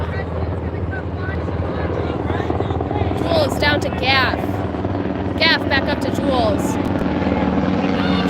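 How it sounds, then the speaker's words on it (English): Several helicopters fly over a Major League Quadball match, their steady rotor drone running throughout beneath a commentator's play-by-play, with faint crowd sounds and whistles. "We have a bunch of helicopters coming over."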